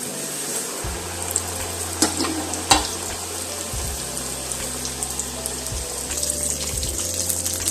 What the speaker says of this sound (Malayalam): അപ്പം നമുക്ക് കുറേശ്ശെ ഇട്ട് വറക്കാം